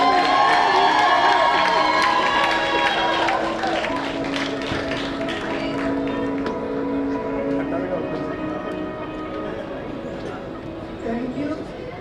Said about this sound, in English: So can we invite her on the dais with a huge round of applause